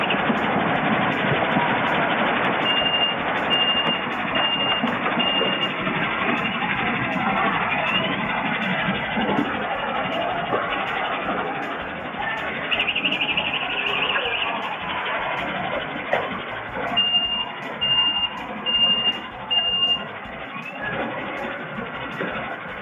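A road repair vehicle works with a steady engine rumble and grinding, while a thin high reversing beep repeats in spaced bursts early and again near the end, over a loud continuous background.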